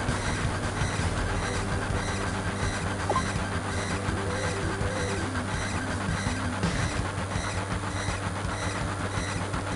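Train wagons rumble and clatter steadily in Final Fantasy VII (1997), a dense continuous mechanical drone with rhythmic clickety-clack, loud and unbroken throughout.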